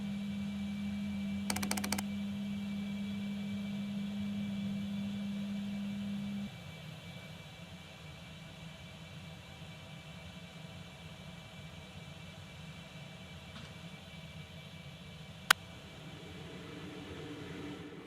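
An airliner in the X-Plane 11 flight simulator rolls for takeoff, a steady engine roar and hiss that drops to a lower hum partway through, with occasional faint keyboard clicks.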